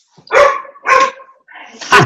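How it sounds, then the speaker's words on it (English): A dog barks three times in close succession, loud, near and yelping, each bark rising sharply, with a brief whine trailing between them. "the dogs calling, so you did a good thing there"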